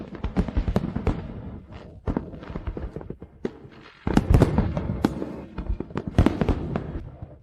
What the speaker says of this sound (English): Don't you like the fireworks?